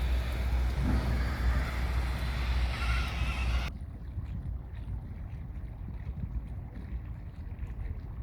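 Ferry carrying trucks across the Danube from Bulgaria to Romania at Oryahovo: steady engine drone and water rush under gusting wind noise, loud at first, then duller and quieter for the rest.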